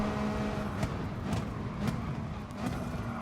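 McLaren race car in a racing video game at the Nürburgring, pushed hard through Schwedenkreuz, its engine a steady loud drone with slight pitch shifts and short bursts, close and without talk.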